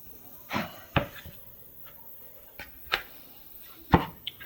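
Biscuit dough of self-rising flour and heavy whipping cream being stirred in a bowl: a handful of short, separate scraping knocks spaced irregularly over quiet background, with no talking.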